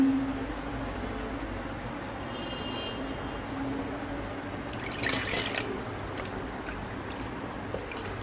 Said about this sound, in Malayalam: ഇനി ആ മിക്സിയിലെ ജാറ് ഒന്ന് കഴുകിയിട്ട് അതൊന്ന് ചുറ്റിക്കഴുകുക